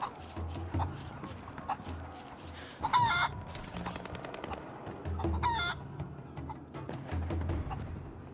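Chickens in Rise of the Tomb Raider cluck and crow in repeated bursts over a steady game background, with a dog barking faintly.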